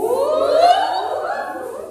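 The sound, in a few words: choir voices imitating a siren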